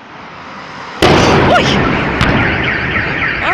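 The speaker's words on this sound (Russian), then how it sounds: "Произошел взрыв 3 баллонов, предположительно." Gas cylinders explode at a fire, a sudden loud blast that cuts in after a second of quiet background, followed by a long rumbling roar, with a brief startled exclamation and a second sharp crack shortly after.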